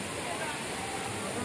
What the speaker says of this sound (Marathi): बघा कालमांडवी वॉटरफॉल.